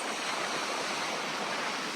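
Strong wind buffets an outdoor microphone on a hilltop by a thatch-roofed bar at the Abaco Inn, a steady loud roar with no pauses for the full length.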